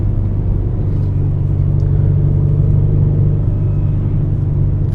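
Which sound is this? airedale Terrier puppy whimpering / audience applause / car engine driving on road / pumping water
car engine driving on road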